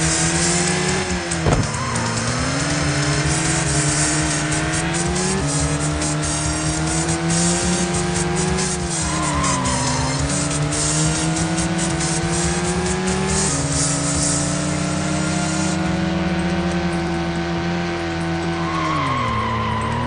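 A racing car in a retro video game drives continuously with a loud, steady engine tone that rises and falls through gear changes, with sliding tyre squeal layered over it throughout and no voices.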